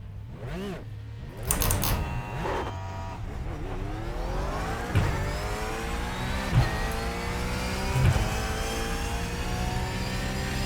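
Race car engine in the iRacing sim, droning steadily with rising and falling revs and repeated gear shifts, loud and continuous with no voices over it.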